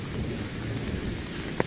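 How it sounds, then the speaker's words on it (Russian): A low rumble of thunder rolls through a rain and hail storm in Kursk, with steady rain falling close by and a few sharper drop hits. "Вот и гром."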